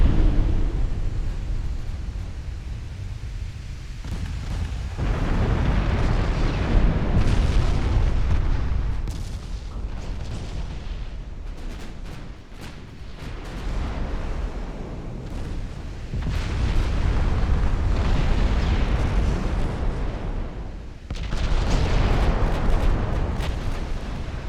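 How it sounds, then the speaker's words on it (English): Torpedo hits exploding against a warship in the Ultimate Admiral: Dreadnoughts naval game, several heavy, rumbling booms that swell and roll in long overlapping waves, loud and deep without any voices. "Now you're gonna get a couple more. 3 more torpedoes."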